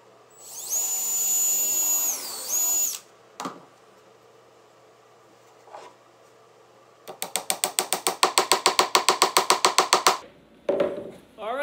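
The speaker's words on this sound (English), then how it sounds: "Use the drill again if you want." A power drill used on a wooden birdhouse gives a long, high whine, a few isolated clunks, then a rapid train of ratcheting clicks followed by a final short burst, all heard close up.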